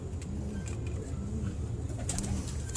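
Golden doves and pigeons coo in low, repeated rolling calls, a few separate coos close by over a steady background hum with faint chirps.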